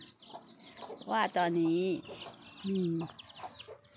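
Black chickens on a farm in Phetchabun cluck in a few drawn-out calls, close by, with brief bursts separated by pauses while someone speaks softly in between.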